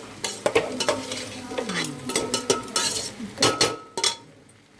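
A spoon stirs masala into chicken biryani rice in a pot, giving irregular scraping and clinking strokes against the metal with a soft sizzle underneath, close and moderately quiet.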